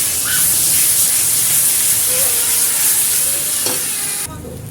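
Onion paste and whole spices (dried red chillies, cinnamon, bay leaf, cumin) fry in oil in a wok, a loud steady sizzle and hiss that runs throughout before dropping off abruptly at the end.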